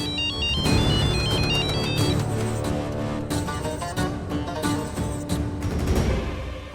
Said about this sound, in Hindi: किसका फोन है हजूर?